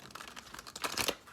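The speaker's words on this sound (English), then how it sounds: "Just gonna do one quick shuffle," A quick riffle of oracle cards being shuffled, papery crinkling and flicking that swells to a louder burst near the end, close by and alone.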